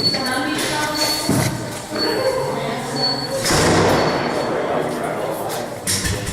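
Police car door chime beeping steadily while the door is open, then a thud as it closes, under voices in the car and road noise.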